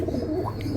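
A male Gorra pigeon coos in a low, steady rumble close by, continuous through the short moment with faint background noise.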